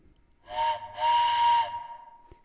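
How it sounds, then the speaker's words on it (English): A train whistle sounds twice, a short blast and then a longer one, clear, fairly close and breathy with a steady pitched tone, followed by quiet. "She pulls down on the air twice like a train whistle."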